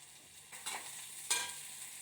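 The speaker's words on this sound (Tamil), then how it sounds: "நல்லா வெங்காயம் நல்லா வதங்கட்டும்" Soft sizzling of onions frying in a pan with a couple of brief scraping stirs, quiet and steady, no voices.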